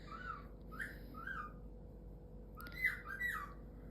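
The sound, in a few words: pet bird squawking and whistling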